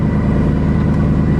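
A salvaged Mercedes C63 engine drones loudly and steadily while driving, a close, continuous throaty hum with no pauses.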